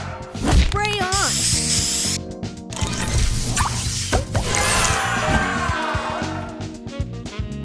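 A booster spray effect in a match-puzzle video game sounds as a bright hissing spray burst amid chiming game sound effects and music, with a voice announcing the move.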